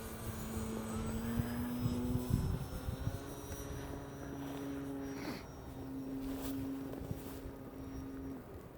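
A Timber 1.5m RC airplane flies over snow, its electric motor giving a faint, distant, steady whine that rises and falls in pitch as the plane passes, with no talk.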